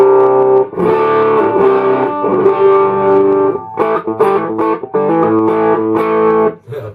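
Electric guitar played through a Jamjar amp with the guitar volume rolled back, giving a clean, unaffected tone. Sustained chords ring for the first few seconds, then choppier strummed phrases with brief gaps follow, with no voices.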